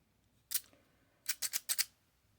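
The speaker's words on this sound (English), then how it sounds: "I used a little shapy scissor to cut these little details here" Small shaping scissors snip details into paper for a handmade watercolor card: one crisp cut, a pause, then four quick snips in a row, close and clear against quiet room tone.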